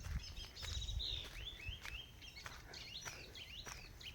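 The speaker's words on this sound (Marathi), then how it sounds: "तर बाजूचा आपल्या पक्ष्यांचा आवाज पण चांगला येत असेल." Faint bird calls and chirps sound outdoors in a village at evening during the first rains of the season, scattered and distant over a low, quiet background.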